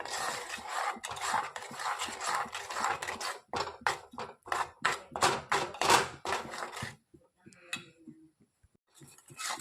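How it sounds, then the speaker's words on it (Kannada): Spoon scraping and clinking against a pan as a thick tamarind candy mixture is stirred, a run of irregular close taps and scrapes that pause near the end, with no talk. "ಹಲ್ವಾದ ರೀತಿ ಮಿಶ್ರಣ ಬರೋವರೆಗೂ ಕೈ ಆಡಿಸ್ತಾನೆ ಇರಬೇಕು."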